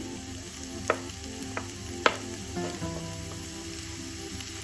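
Sausages and red onion frying in a pan give a steady close sizzle, with a few sharp clicks and knocks from the pan as they settle.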